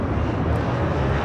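American Airlines Airbus A321 departing LAX for JFK, a steady broadband jet roar heard from a distance, constant in level throughout with no talk over it.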